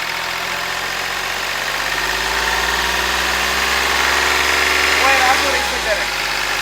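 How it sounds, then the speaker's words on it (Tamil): A car engine idling smoothly, a continuous steady hum and drone close by with a slight rise in level midway, a voice speaking over it. "இங்கே பாருங்கள், என்ஜின் எவ்வளோ ஸ்மூத்தாக ஓடுது பாருங்கள்."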